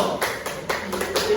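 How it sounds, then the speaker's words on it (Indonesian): Schoolchildren in an elementary social studies class clap their hands briefly in a few quick, uneven bursts, close by, with talking mixed in. "Tepuk tangan dulu."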